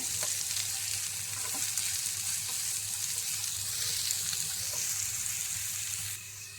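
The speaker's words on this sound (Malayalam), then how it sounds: "അതിലേക്ക് 1 സവാള അരിഞ്ഞത് ചേർത്ത് കൊടുക്കാം. എന്നിട്ട് ഇതൊന്ന് വഴറ്റി കൊടുക്കാം." Chopped onion sautés in a pan with a continuous, fairly loud sizzle that holds steady throughout, broken by faint stirring scrapes, and drops off slightly at the very end.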